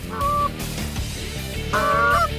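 Canada geese honk in flight in two bursts, nasal calls overlapping against a low steady rumble.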